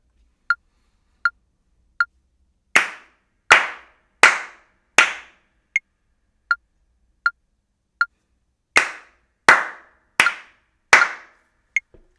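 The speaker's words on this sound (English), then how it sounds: "just clap for 4 beats and then rest and listen for 4 beats" Hands clap in steady groups of four beats, alternating with four-beat rests, while a faint metronome tick keeps time throughout; the claps are sharp, close and loud, with no talking.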